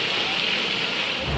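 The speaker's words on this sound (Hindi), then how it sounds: "देहरादून में पिछले 48 घंटे से लगातार बारिश हो रही है।" Continuous heavy rain pours in Dehradun, a dense, unbroken hiss of downpour that stays loud and steady throughout, with no voices.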